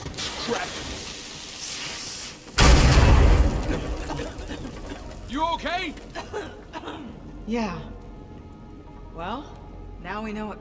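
An explosion goes off in a caved-in passage in the video game Uncharted Legacy of Thieves, a sudden loud blast lasting about a second, followed by voices talking over quiet dripping ambience.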